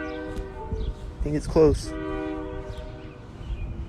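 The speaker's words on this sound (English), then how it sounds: "The train horn is going off." A train horn blows a sustained multi-tone chord near a building corner at a street intersection. It holds steady through the clip with rising noise near the middle, while a person talks briefly over it.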